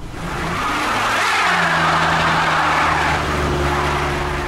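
A 1991 Chrysler Grand Voyager driving over a potholed road, heard from inside the cabin as a steady, loud engine drone and road rumble that continues throughout, with no talking.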